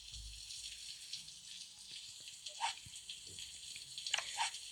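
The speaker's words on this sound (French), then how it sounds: "Oh non, il pleut." Video game rain falls softly in the background, faint patter and trickling drips with scattered small splashes, quiet and irregular, with no speech.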